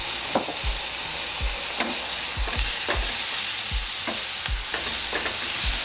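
Garlic sizzles in a hot pan with softened onions and mushrooms for beef stroganoff: a steady, bright frying hiss broken by repeated dull knocks and scrapes of stirring, close and clear.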